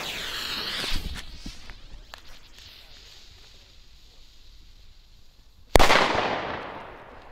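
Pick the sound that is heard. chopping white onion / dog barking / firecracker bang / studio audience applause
firecracker bang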